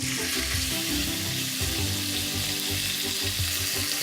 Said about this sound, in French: on a notre casserole qui est bien chaude. On va pouvoir saisir la viande.